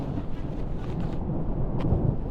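Distant thunder rumbles low and steadily during a mountain hike in the Pyrenees, with wind buffeting the microphone and no voices.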